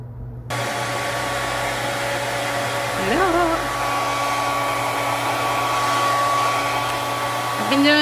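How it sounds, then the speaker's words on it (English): Hair dryer fitted with a diffuser drying curly hair, a loud steady blowing whine that starts abruptly and runs continuously, with brief pitch wobbles as the airflow shifts. "And I'll diffuse it and be back."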